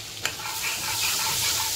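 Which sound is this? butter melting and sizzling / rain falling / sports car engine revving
butter melting and sizzling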